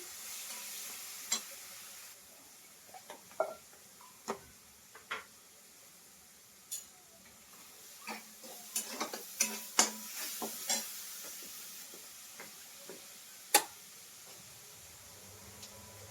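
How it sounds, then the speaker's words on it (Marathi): Garlic and coconut roast in a pan over a lowered gas flame, giving a faint dry crackle and scattered scraping stirs and taps, close and intermittent with no talk. "गॅसची फ्लेम थोडीशी कमी करते आणि लसूण खोबरं छान असं भाजून घ्यायचंय"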